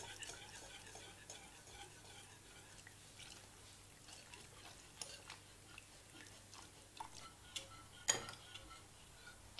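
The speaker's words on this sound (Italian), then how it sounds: "E continuando a mescolare." Quiet stirring of a sauce with milk in a pan, soft scraping and occasional light clicks of a utensil against the side, faint sizzling underneath.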